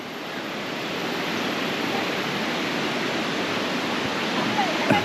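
The river and waterfall at Sungai Chiling near Kuala Kubu Bharu make a steady, close rush of flowing water that stays even and fairly loud throughout, with only a faint touch of other activity near the end.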